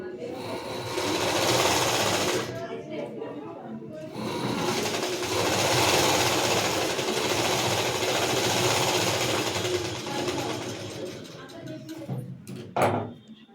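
A sewing machine stitches the front part of a blouse in loud, sustained bursts, pausing briefly between runs, with a few clunks of handling near the end.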